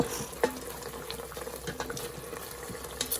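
Beef and broccoli sauce simmering and thickening in an Instant Pot gives a steady, close bubbling hiss dotted with small pops, with no voices.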